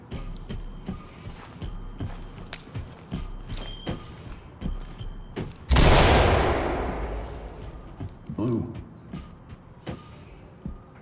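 Gunfire in the tactical shooter game Ready or Not, with scattered sharp shots and clicks and one loud, close blast followed by a decaying roar, then more intermittent impacts.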